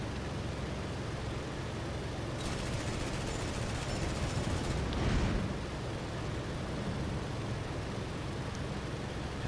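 Aircraft machine guns strafing ground vehicles in the IL-2 Sturmovik flight game, a rapid burst of gunfire lasting a couple of seconds over a steady loud engine and wind roar.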